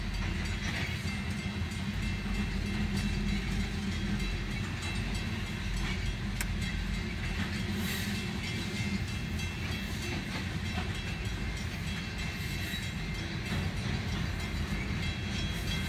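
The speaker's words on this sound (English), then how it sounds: "Hopefully this train can at least clear the crossing." Union Pacific freight cars rumble by a road crossing in a constant heavy roll, with wheel clicks and a steady low drone, heard up close from a truck cab.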